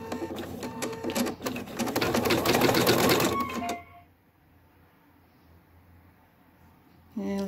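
A Viking embroidery machine stitches a satin stitch on minky fabric in a 180x130 magnetic hoop, a dense, rapid mechanical chatter that runs loud and steady for several seconds, then stops abruptly, leaving near silence before a brief restart.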